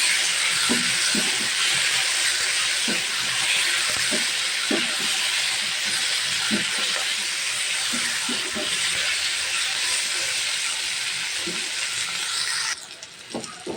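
Ginger-garlic paste sizzles in a pan, a steady broadband hiss that runs close and even, with faint soft clinks and stirring taps scattered through it.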